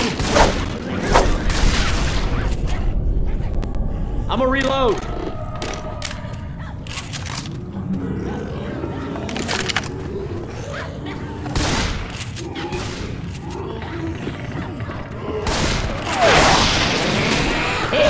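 Gunfire rattles through a Left 4 Dead 2 round on The Parish, dense overlapping shots and bursts with thuds over a constant din of game noise for the whole stretch, and voices talk at points.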